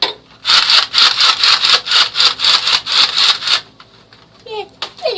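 A toy M1A1 gun makes a loud, rapid electronic rattling burst of about a dozen evenly pulsed blasts close to the microphone, then stops; brief voice sounds follow.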